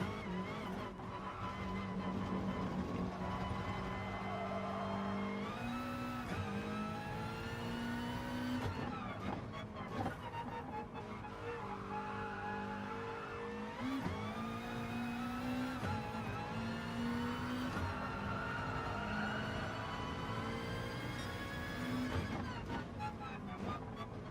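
Subaru race car in Gran Turismo Sport during an FIA Manufacturer's Series online race, its engine droning loud and steady with repeated rising revs and gear shifts, tire skids mixed in, continuous for the whole stretch.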